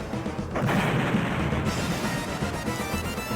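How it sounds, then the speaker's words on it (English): Explosions in the Shining Force III video game form a dense, continuous rumbling roar with crashing bursts, loud and steady throughout. "And... explosions. Michael Bay explosions."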